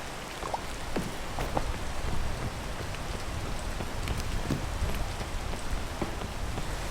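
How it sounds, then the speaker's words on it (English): Rain in the video game PEAK, a steady, dense hiss of falling rain with scattered drop taps, constant and fairly loud throughout with no voices over it. "The rain makes my life absolutely miserable."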